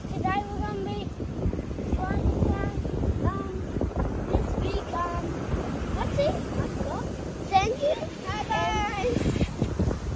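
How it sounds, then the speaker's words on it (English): Strong wind buffets the microphone in steady low rumbling gusts, with people talking intermittently underneath. "It's very windy today."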